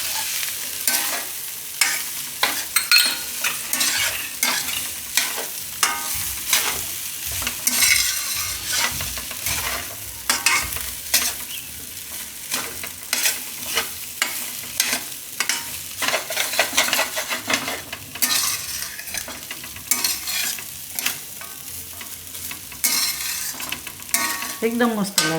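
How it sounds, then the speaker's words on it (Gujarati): Methi matar pulao rice being stirred and mixed in a pan, a steady run of scraping, shuffling strokes with a soft sizzle underneath, close and fairly loud with no talking. "આ બધું મિક્સ કરી લેવું આમાં."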